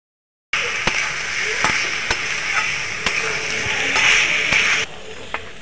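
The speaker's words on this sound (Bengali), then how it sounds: "আলুটা দিয়ে কষিয়ে নিয়েছি।" Potatoes fried with salt and turmeric, now stirred and sautéed with spices in a pan: a steady sizzle broken by repeated sharp scrapes and knocks of the spatula, loud and close.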